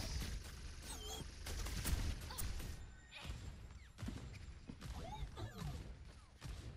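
Rapid bursts of Bastion's gunfire in Overwatch 2 crackle through a chaotic match, with sharp repeated shots, impacts and clatter close and loud, broken by brief lulls.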